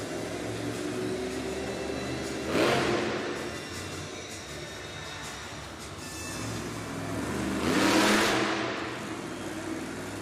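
Monster truck engine revving during a slow parade lap in a Greenville arena, a steady rumble that surges loudly twice, with a big rise near the start and another toward the end, amid crowd noise.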